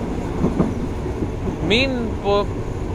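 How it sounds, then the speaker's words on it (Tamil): A train crosses over a road on Thailand's Death Railway, the Siam–Burma line, with a steady low rumble and a couple of brief whistle-like tonal cries partway through. "என்னங்க ரோட்டு மேலேயே இப்படி ட்ரெயின் பாஸ் ஆகுது"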